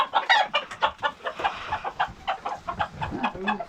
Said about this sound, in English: So we're feeding the chickens our scraps.